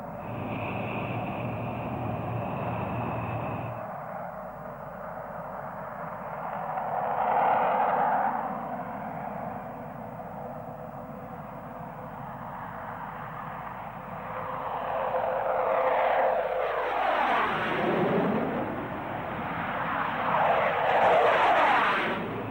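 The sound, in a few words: A-4 Skyhawk jet aircraft taking off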